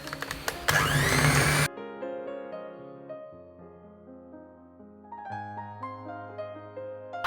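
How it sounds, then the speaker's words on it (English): A hand blender whipping cream for chocolate frosting, a loud, close whirring burst lasting under two seconds, followed by soft background music. "I honestly recommend a hand blender for doing these frosting things"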